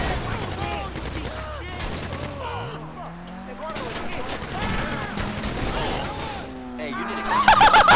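Gunfire during a Grand Theft Auto V heist crackles in bursts across a busy game mix with engine hum and other effects, while excited voices talk over it.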